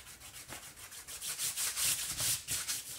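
Fingers rubbing dried masking fluid off a painted paper surface, a close, rhythmic series of dry scuffing strokes rising and falling steadily, with no talking.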